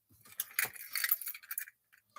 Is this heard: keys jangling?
yes